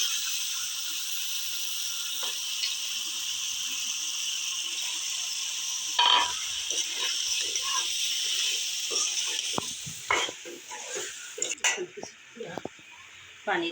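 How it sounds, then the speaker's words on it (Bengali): Chicken meat stirred into spiced masala in a pan, a steady sizzle running throughout with scattered clinks and scrapes of a spoon against the pan growing more frequent toward the end. "এখন মুরগির মাংসগুলো দিয়ে দিলাম।"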